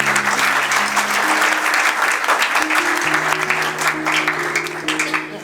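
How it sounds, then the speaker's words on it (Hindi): Loud applause from a mostly male church audience at a gospel music programme, dense and sustained over held organ-like tones, with the clapping swelling and thinning slightly throughout. "तो भाई ज़रा ज़ोरदार तालियां बजाएं"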